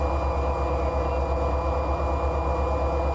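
A freight train runs through hilly curves in the Run 8 Train Simulator video game, giving a steady, loud, continuous rumble and hum of the locomotive and cars with no pauses.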